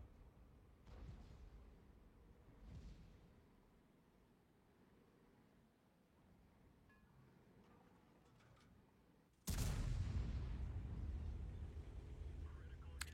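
A tank cannon fires at an E100 in a tank video game, one loud sudden blast near the end that rings out and lingers, after a stretch of quieter engine rumble with faint background talk.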